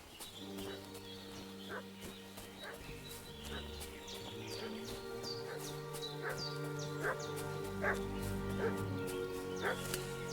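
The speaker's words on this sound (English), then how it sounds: "What's that dog making such a fuss about?" A dog in Kingdom Come Deliverance 2 barks and whimpers repeatedly in short yelps over a steady game ambience with droning music. The sound is moderately close and a voice talks at times alongside it.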